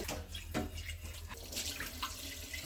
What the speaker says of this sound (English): And also rinse out the bucket for next time.